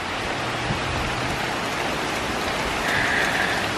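Steady, loud rain falling outdoors, a dense even hiss of drops on surfaces with no break and no voices.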